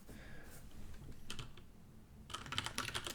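Fingers type on a computer keyboard in short bursts of quick, light clicks with a pause between, faint and close, with no speech over it.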